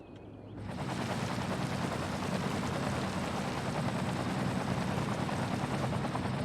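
A fire-fighting helicopter in the Cities: Skylines city-building game gives a steady, dense rotor-and-engine roar that swells in after a brief quiet start and then holds constant at a fairly loud level, with no talking.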